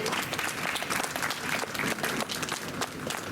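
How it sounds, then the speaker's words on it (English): Audience applause at a university Independence Day celebration and awards ceremony: dense, steady clapping from a large crowd fills the whole stretch without a break. "Big round of applause for Dr. Vatsala Tomar."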